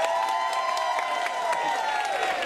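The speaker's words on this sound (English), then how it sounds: "If you would like to see what happens in the I North wonder." Audience at a Showdown comedy competition breaking into applause and cheering, a steady dense wash of clapping with a few louder claps through it.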